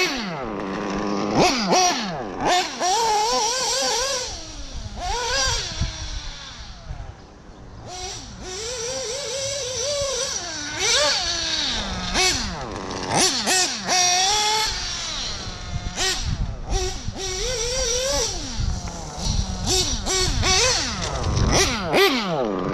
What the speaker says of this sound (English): this Triton is a badass engine too